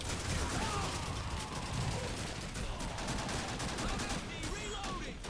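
Rapid, dense gunfire from a World War II shooter, Call of Duty 2, with machine guns rattling in a continuous fusillade and scattered single shots, with someone talking faintly over it.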